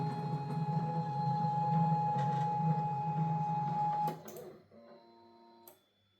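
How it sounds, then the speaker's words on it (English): A DIY SLS 3D printer homes all axes with a steady tonal stepper-motor whine and hum that runs for a few seconds, then breaks into shorter stepped tones and clicks as each axis finishes and stops. "Now we're gonna home all axes."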